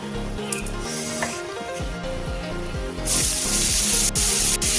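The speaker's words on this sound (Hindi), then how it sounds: "अब इसमें जो मैंने प्याज काट के खाया है, अब वो प्याज डाल देते हैं।" Chopped onions hit hot oil with panch phoron and burst into a loud, steady hiss that swells sharply midway and keeps sizzling close up to the end.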